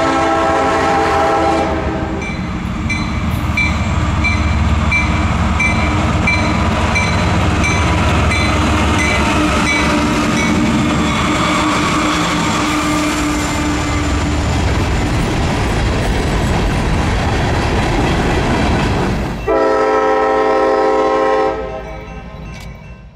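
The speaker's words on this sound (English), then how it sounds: "get a glimpse of southbound X603, an extra section of Q603 made up entirely of loaded rock hoppers" A southbound CSX freight train of loaded rock hoppers rolls past loudly with a sustained roar of wheels and clatter, its horn blaring at the start and again in a long chord near the end as the noise fades.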